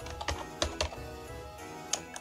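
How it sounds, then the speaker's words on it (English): A computer keyboard being pressed, including the tab key, gives a few crisp, close clicks and taps spread across a short stretch of quiet room tone. "I'll push tab on the keyboard"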